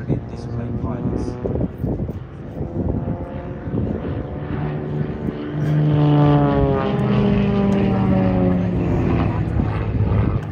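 A propeller aerobatic display aircraft from a flight display team drones past with a rising, swelling engine buzz that peaks midway and stays loud, heard under a commentator's talking at an air show.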